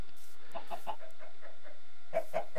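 Chickens cluck on a blocky video game farm, a string of short clucks running steadily and ending in a few louder, closer calls.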